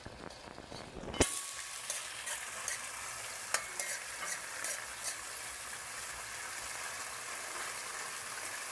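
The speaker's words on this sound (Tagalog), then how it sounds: "Igisa ko muna ang sardinas para siya nawala yung lagsa." Sardines sautéing in a pan for cabbage with sardines, a steady close sizzle starting abruptly as they hit the oil, with occasional stirring clinks and scrapes.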